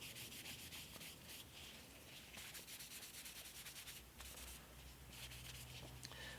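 1500-grit wet and dry sandpaper rubs oil into a wooden handle for a Stanley 101 plane, making a close, continuous scratchy scrubbing in quick back-and-forth strokes, with brief pauses.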